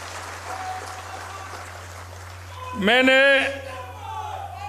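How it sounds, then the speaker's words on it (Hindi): A crowd applauds steadily in welcome of Om Prakash Mathur, Sikkim's governor, at an honouring event in Jaipur; a voice calls out loudly over the clapping partway through. "एक बार जोरदार तालियों के साथ स्वागत और अभिनंदन"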